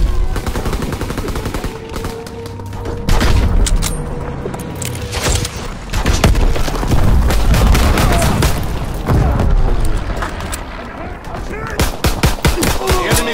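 Dense World War II video game combat in Call of Duty: rapid machine-gun bursts, sharp gunshots and booming explosions as an ammunition stack is destroyed, loud and continuous with a voice briefly under the din.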